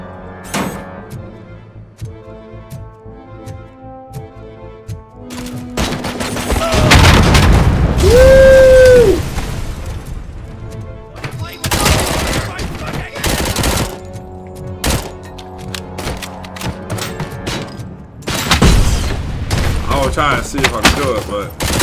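Gunfire from the Robocop Rogue City video game comes in heavy bursts and booming shots that swell and fade across the clip, with a voice talking at times over the combat.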